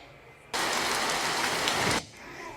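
Heavy rain pours down in a sudden loud burst of dense hiss that lasts about a second and a half, then drops back to a softer, quieter patter of rainfall.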